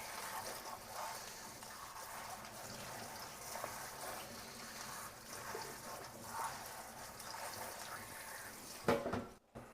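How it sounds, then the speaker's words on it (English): Fresh spinach rinsed under a running kitchen faucet, a soft steady stream of water splashing continuously for nearly ten seconds, faint and even, ending with a short clatter. "Now I'm just going to rinse my spinach."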